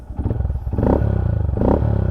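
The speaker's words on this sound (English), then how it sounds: "no Grom should ever sound that good" Honda Grom motorcycle with a Yoshimura exhaust and dB killer fitted, running close up with a loud, throaty, rapidly pulsing engine note that swells in two short revs.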